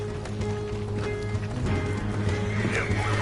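Horses whinny and hooves clip-clop in a Western video game shootout, the neighing loud and close over a steady rumbling backdrop with hoofbeats running throughout.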